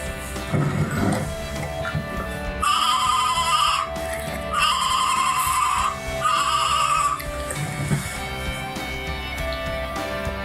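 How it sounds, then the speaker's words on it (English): Novelty sheep-shaped drinking straw giving repeated bleats, heard in two loud, sustained bursts, like a crying baby, with quieter background sound between them. "my favourite was the sheep, because it's the funniest, and it sounds like a baby crying."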